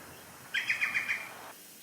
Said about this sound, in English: Green woodpecker again.